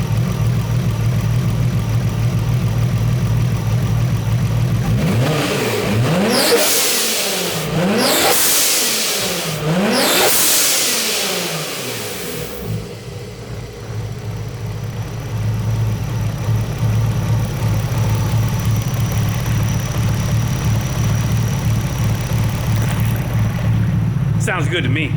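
A car engine fitted with HKS cams and old blow-off valves idles with a deep, lumpy rumble, then revs hard three times in quick succession, each rise and fall sweeping up and down before it settles back to a steady idle.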